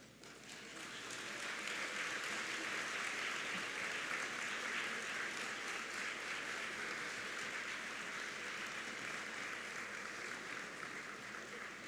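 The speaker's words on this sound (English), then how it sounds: "I would ask graduates that you rise and applaud the Glen Oaks faculty and staff." A graduation audience at Glen Oaks stands and applauds the faculty and staff, a dense, sustained wash of clapping from a large crowd that holds steady for about ten seconds before beginning to thin.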